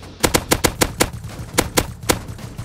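Rapid gunfire from a scoped gun in the video game Rust, about a dozen sharp cracks in quick uneven bursts, loud and close with no talking.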